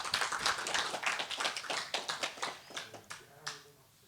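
Light, scattered applause from a small lecture audience, a few seconds of claps that thin out and fade toward the end.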